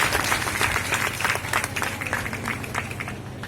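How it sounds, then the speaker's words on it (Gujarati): An audience at a women's celebration event in Patan applauds a woman being honoured with a cheque, dense clapping close and continuous throughout. "આપણે એમને જબરદસ્ત તાળીઓના ગડગડાટથી બેનને વધાવી લઈએ."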